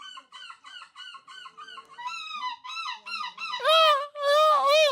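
A human voice imitates a screeching seagull in a series of short nasal cries that grow longer, louder and more strained toward the end.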